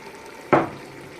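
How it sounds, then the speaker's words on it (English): A small splash of water poured from a Coca-Cola cup into pork cooking in a pan, one short burst over a quiet background. "I've got a Coca-Cola cup with just a bit of water"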